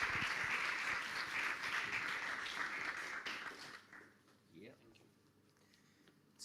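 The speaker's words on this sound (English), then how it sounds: "Let's give him a big round of applause" A round of applause at a closing ceremony, loud and continuous, dies away after a few seconds into quiet with faint scattered sounds.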